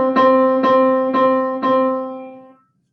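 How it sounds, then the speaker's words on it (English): Middle C (C4) on a piano is struck four times in an even rhythm, each strike clear and close. The ringing tone then fades to silence. "Now, C4 is a specific pitch. It's the middle C on the piano."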